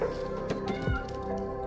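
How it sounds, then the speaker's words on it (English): Cats meow in a short burst of a couple of nasal cries over a busy background with some clucking-like noise. "Meowing cats."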